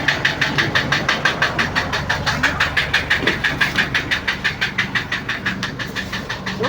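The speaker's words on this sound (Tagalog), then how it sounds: "Grabe ang palyado." An Isuzu Altera engine runs rough with a misfire, producing a loud, steady chugging beat of regular knocking pulses close by, about five per second, with no talking.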